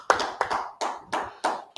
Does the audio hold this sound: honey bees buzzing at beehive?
no